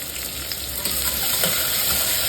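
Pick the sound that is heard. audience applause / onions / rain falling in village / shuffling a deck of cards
onions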